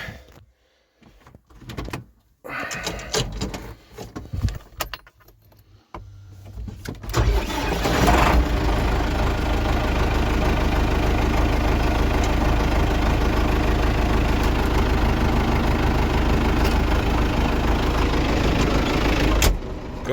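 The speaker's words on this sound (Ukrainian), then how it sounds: "зараз заводимо трактора" An engine cranks and catches after a few quiet knocks and clunks, then settles into a steady, loud, rumbling idle that continues to the end.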